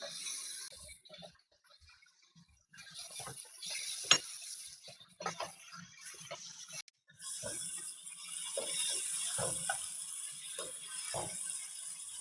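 Chicken being fried and stirred in a pot with onions and masala for aloo gosht, with scraping and clinking of a spoon against metal and a steady sizzling hiss rising in the second half, close and fairly quiet.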